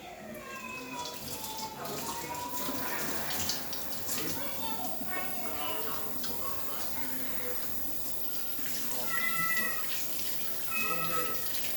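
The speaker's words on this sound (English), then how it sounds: "I'm gonna wash my hands right here." Tap water runs steadily as hands are washed under it at a sink, a continuous close splashing flow with voices talking faintly in the background.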